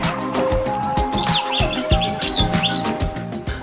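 Birds chirp and call repeatedly at a large bird park in Hout Bay near Cape Town, South Africa, with high tweets over a steady busy background of other sounds and tones.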